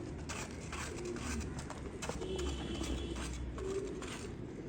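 Pigeons coo softly: several low, soft calls repeat at intervals over a constant background rumble, fairly close but quiet.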